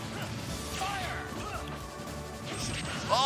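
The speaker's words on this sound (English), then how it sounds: "Ooh, nice sword slash." Sword slash hits in Super Smash Bros Ultimate, several sharp crashing impacts over a busy, loud game mix, with a bright whooshing strike near the end.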